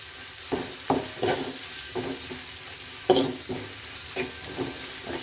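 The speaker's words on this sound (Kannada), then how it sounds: "ಶುಂಠಿ ಬೆಳ್ಳುಳ್ಳಿ ಪೇಸ್ಟ್ ಎಲ್ಲ ಈರುಳ್ಳಿಗೆಲ್ಲ ಸ್ವಲ್ಪ ಹೋಗಲಿ, ಚೆನ್ನಾಗೆಲ್ಲ ಮಿಕ್ಸ್ ಆಗಲಿ." Onions fry with ginger garlic paste for a karimeen fish gojju, stirred in a pan: a soft steady sizzle with repeated rhythmic scraping strokes of a spoon, close and moderate in level.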